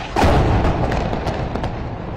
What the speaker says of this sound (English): the raids are directly targeting the tower.